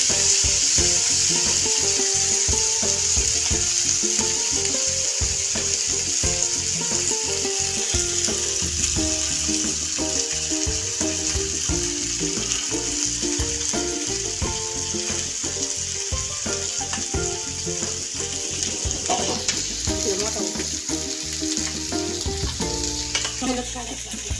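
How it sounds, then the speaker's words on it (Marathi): Bitter gourd curry with home-made masala paste frying in oil in a pan, a loud continuous sizzle broken by repeated stirring scrapes throughout. "हे असे चांगले परतवून द्यायचे."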